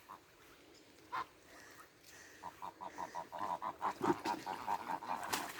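Geese honk in a rapid series of loud, close calls on a farm pond, building in intensity after a brief early call, with no talk over them.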